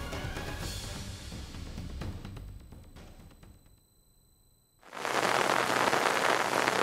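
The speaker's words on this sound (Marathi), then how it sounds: "गेल्या 48 तासापासून खेडमध्ये रत्नागिरी जिल्ह्यातल्या खेडमध्ये मुसळधार पाऊस पडतोय" Heavy monsoon downpour in Khed, Ratnagiri district, near the Jagbudi river: a dense steady hiss of rain, easing into a quiet gap before a loud close wash of rain returns, with no voices.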